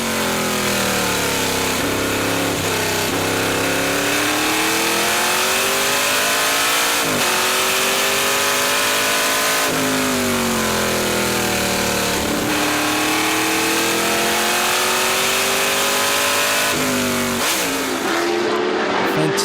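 Lola T430 race car engine howling at speed on a racetrack, a loud continuous onboard roar with rising and falling pitch through gear changes, alone without talk.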